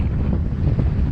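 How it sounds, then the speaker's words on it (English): Strong 15 to 25 knot winter wind roars across the microphone on a sailboat anchored behind Key Biscayne, Florida. It is a loud, constant buffeting rush with water sounds beneath it. "It's wintertime in Florida, so we got the usual 15 to 25 knots of wind."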